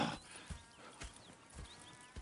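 Horse hooves clip-clop in a steady walking rhythm in Red Dead Redemption 2, several soft thuds spaced about half a second apart, with a faint snort or whinny and light background ambience.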